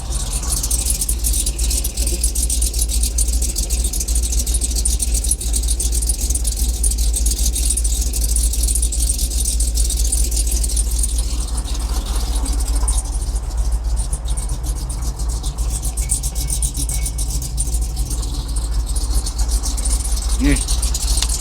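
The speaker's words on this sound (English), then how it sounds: "She's idling." A freshly rebuilt Chevrolet Trailblazer SS engine idles steadily after startup, a loud continuous low rumble with faint rattles and brief voices nearby.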